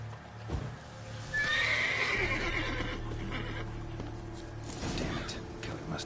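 A horse in the video game The Witcher 3 whinnies loudly and close, alongside a steady clip-clop of hooves beneath a dense game soundscape.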